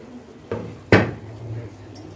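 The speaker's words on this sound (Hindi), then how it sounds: "अपना दाल का ढक्कन हटाएंगे" A metal lid is lifted off a pot of cooking dal with a couple of clanks, the second one sharp and ringing briefly.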